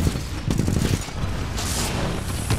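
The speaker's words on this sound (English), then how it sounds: "there's mortars again!" Mortar barrage in the Titanfall 2 shooter: a dense, continuous roll of blasts and crackling gunfire with repeated heavy low thumps. The booms come in clusters over a steady battle din, fairly loud and close throughout.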